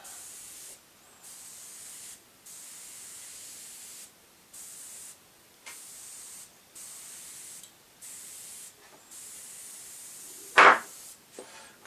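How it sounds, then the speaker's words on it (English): An Iwata Power Jet Pro airbrush compressor sprays a steady hiss that bursts on and off in a regular rhythm, each pulse lasting about a second, with one sharp louder burst near the end. "Sounds like it can run a lot longer for the money that we've spent on it."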